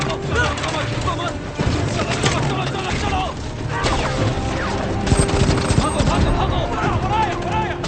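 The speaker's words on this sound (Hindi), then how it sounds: "हम पर गोलियां चल रही हैं।" Dense, continuous gunfire rattles without pause, with bursts and booms layered under loud dramatic music and effects.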